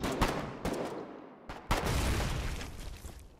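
A gunboat firing fragmentation rounds in Foxhole, several sharp booming shots at irregular intervals, each followed by a rumbling decay, moderately quiet and heard without voices.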